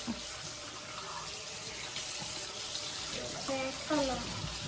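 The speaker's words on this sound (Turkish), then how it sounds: "Ama burada lavabonun içinde yıka" A tap runs steadily into a sink as a child washes hands with soap, a continuous watery hiss with occasional splashes, and voices speak over it.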